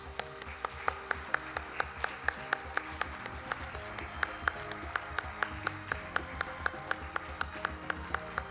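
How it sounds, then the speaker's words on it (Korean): Audience clapping for performers at an opening ceremony of the 2022 Pyeongchang Peace Forum, a steady, moderately distant patter of many hands with sharp individual claps popping out over a low, sustained musical or room hum. "좋은 공연 보여주신 공연단 분들에게 큰 박수 다시 한번 부탁드립니다"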